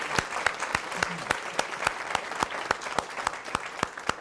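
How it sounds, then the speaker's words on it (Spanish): A small audience at a library inauguration gives a round of applause for a guest, sparse, distinct individual claps landing in an uneven rhythm throughout, fairly close and clear. "un aplauso para ella"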